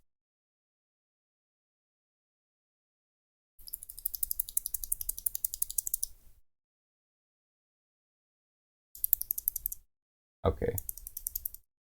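Bursts of typing on a GamaKay MK61 mechanical keyboard with blue switches: a clicky, rapid rattle of keystrokes in three separate runs, close and crisp, with a brief spoken word near the end.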